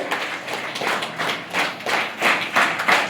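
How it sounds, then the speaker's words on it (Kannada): An audience at a student award ceremony claps together, a dense, steady wash of applause that swells in several waves without any voices. "ಒಂದ್ಸಾರಿ ಪ್ರೀತಿಯ ಚಪ್ಪಾಳೆ ನಿಮ್ಮ ಸಹೋದರಿಗೆ"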